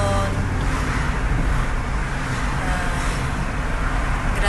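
Steady road traffic noise on a congested street in the Philippines, a continuous broadband rumble with passing vehicles, fairly close and constant throughout with faint voices in the background.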